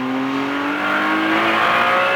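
Race car engine accelerating hard on a track, a loud, close, rising whine that climbs steadily in pitch for about two seconds with no talk over it.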